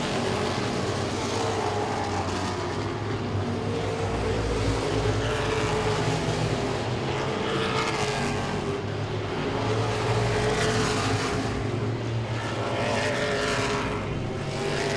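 Modified race cars roar around Langley Speedway in a continuous loud engine drone, with rising and fading passes swelling through the field as traffic circulates.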